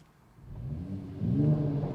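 A Mercedes-AMG GT 4-door V8 cranks and fires on an emotion start, its rumble swelling in two steps to a loud, steady burble close by, with no talk over it.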